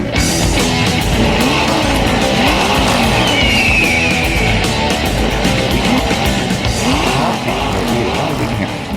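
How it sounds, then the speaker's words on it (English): A recording of a 1968 Cougar plays back, its engine running loud and rough with rising, falling revs throughout, dense and continuous with a faint high squeal mixed in. "It's the sound of a '68 Cougar starting up and revving up"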